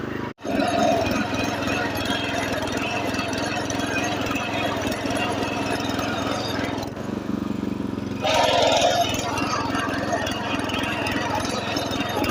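A Honda 7 hp 225cc power weeder engine runs in second gear, a loud, steady mechanical drone that continues almost unbroken for about twelve seconds, with a brief dip near the start and some background talk.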